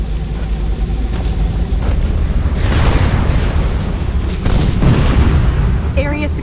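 In Unreal Tournament 3 Warfare mode, an orb detonates with a heavy, rumbling boom that swells and sustains amid ongoing combat noise, loud and low, with a brief tonal announcement cue near the end.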